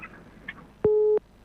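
A single short electronic beep on a telephone line after a call drops during a live radio broadcast; one steady, flat tone lasting about a third of a second, clear over faint background hiss.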